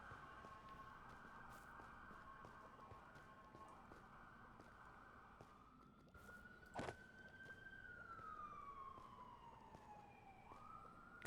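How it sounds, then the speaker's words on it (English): A city emergency siren wailing outside, a long faint tone sliding slowly up and down through the whole stretch, heard from a distance indoors with a sharp knock partway through. "I'm sorry about the sirens."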